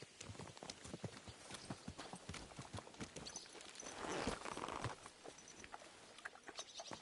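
Horse hooves clip-clop in a steady, repeated rhythm throughout the medieval open-world game Kingdom Come: Deliverance II, a close and continuous patter of many quick strikes with no talking over it.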